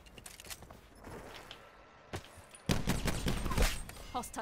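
Shotgun blasts and rapid gunfire ring out in a video game gun-game match, quiet at first and then a loud burst of several shots, with a voice talking over parts of it.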